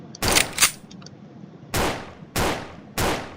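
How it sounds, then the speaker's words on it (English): Four sharp impact hits from enemy strikes in a Unity 2022 game, one doubled burst followed by three evenly spaced cracks, each decaying quickly, loud and close with no talk. "added a new sound effect for when we hit enemies"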